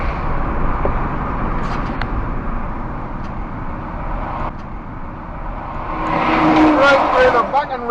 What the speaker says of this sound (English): Right through the fucking red in the truck.